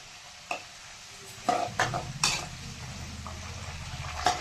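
Curry leaves frying in a pan while a spoon stirs them, giving a steady low sizzle with a few sharp scraping clinks of metal against the pan, close and alone without talk.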